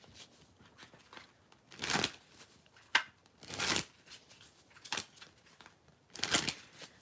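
Tarot cards being shuffled up close, in several separate bursts of riffling, crisp papery flutter with brief pauses between them.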